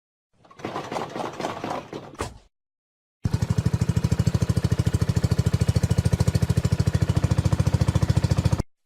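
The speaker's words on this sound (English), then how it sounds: "Tractor." A tractor engine chugs steadily in a fast, even rhythm after a short burst of something else, loud and close, with no talk over it.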